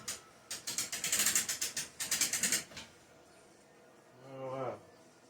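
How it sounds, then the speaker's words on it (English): A ratchet jack lifts an ATV, giving two bursts of rapid, close mechanical clicking in even strokes, followed by a short pause and a brief voice near the end. "So when we jack this up"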